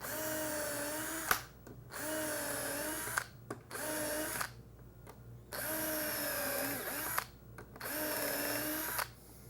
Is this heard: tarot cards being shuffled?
no